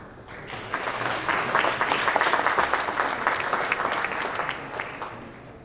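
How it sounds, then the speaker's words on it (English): Conference attendees at a supply chain summit in Los Angeles clap for a speaker taking the stage, a dense burst of applause that swells, holds for several seconds, then tapers off, with no one talking over it. "I'm never sure whether that applause is for him getting off the stage or for me coming on it."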